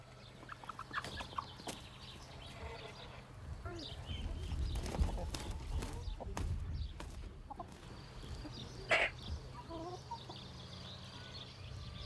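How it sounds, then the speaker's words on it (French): Chickens and a rooster call and cluck across a farmyard, with scattered knocking thuds in a steady outdoor background. "Le coq pousse son cri pour montrer qu'il est le plus fort sur son territoire"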